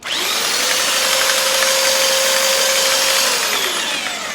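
A small handheld belt sander runs at full speed, giving a steady, loud, high whine with a close motor hum that holds without a break for the whole stretch.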